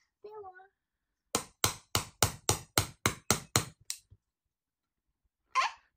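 A child's toy hammer smashes a golden egg with about a dozen rapid, sharp plastic knocks in a steady burst, with brief child vocal sounds before and after.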